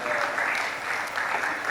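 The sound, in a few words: audience applause at a conference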